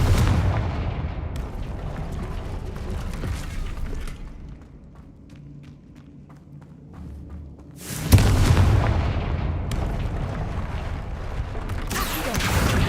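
Confringo fire-spell blasts in the Hogwarts Legacy video game, heavy booming explosions with rumbling tails, a quieter stretch of faint ticking in the middle, then another sharp blast and continued loud booms.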